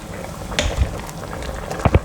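Pork leg and pickled mustard greens simmering in a pot over medium heat, a soft bubbling with a few louder pops and gurgles near the close, no talking.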